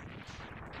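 Dense, loud overlapping explosion effects from the Mega Man X3 video game rumble continuously in a brief burst, booming and crackling without pause.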